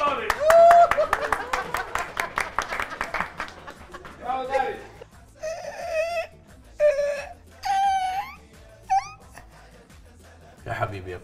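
Quick, rhythmic hand clapping, about a dozen crisp claps, opens the moment, while a voice wails over it; spoken chatter follows afterward.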